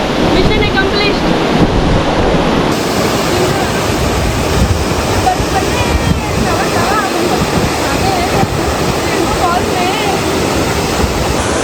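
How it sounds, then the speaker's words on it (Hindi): Roaring rush of Rainbow Falls, a heavy waterfall, fills the air as a loud, steady broadband wash with gusts of wind buffeting the microphone throughout. "पानी की आवाज़ बहुत ज़्यादा है।"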